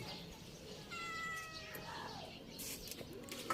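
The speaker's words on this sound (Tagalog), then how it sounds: "sabi yung pusa, ngiyaw daw" A cat meows once, a drawn-out cry heard close but fairly quiet, with a person speaking softly around it.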